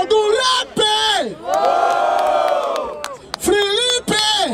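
Crowd at a Brazilian freestyle rap battle in Barueri erupts in loud chanting and cheering, voices rising together in long sustained shouts between short bursts of yelling, close and dense.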